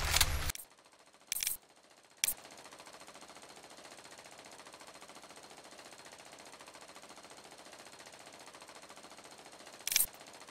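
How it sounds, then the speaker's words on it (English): Machine gun fire in the XIII remake video game, with short loud bursts near the start and one more near the end, separated by a long stretch of quiet low background noise. "I can still hear the machine gun!"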